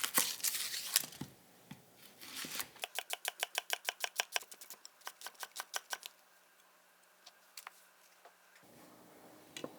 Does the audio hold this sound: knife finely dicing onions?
yes